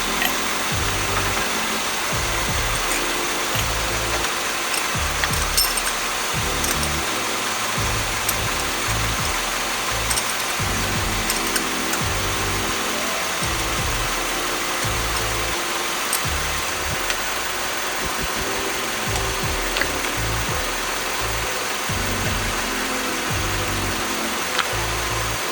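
A turbocharged D16 engine in a Honda Del Sol idles steadily just after its first start. The low, rumbling, slightly uneven note runs on without a break, close and moderately loud, with no talking.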